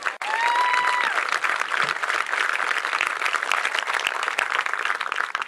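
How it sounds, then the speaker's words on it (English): An audience at an Army 25th Infantry Division change of command ceremony breaks into sustained, loud applause, dense and even from start to finish, with a brief whistle-like tone near the start. "So I would appreciate another round of applause"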